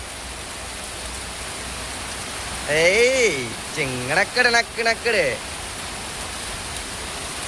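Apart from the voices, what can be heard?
heavy rain pouring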